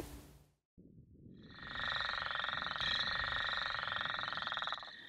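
Northern leopard frogs calling close by: a rapid, rattling, woodpecker-like train of croaks that swells and holds steady, after a brief moment of silence.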